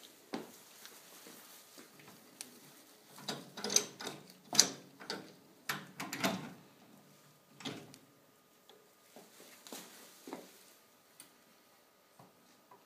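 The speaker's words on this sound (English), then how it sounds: "right now I can unload the autoclave. The autoclave cycle is finished." An autoclave is unloaded after its cycle, with scattered metallic clicks, clatters and latch or tray knocks, some clustered and others isolated, fairly close in an otherwise quiet room.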